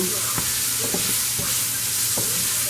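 Garlic and onions sauté in a pot for a chicken tagine, giving a constant bright sizzle with a few scattered spoon knocks and stirring sounds, close and loud.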